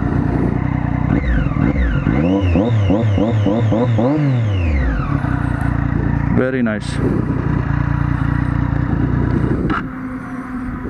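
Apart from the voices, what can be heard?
Triumph Daytona 675R motorcycle engine revving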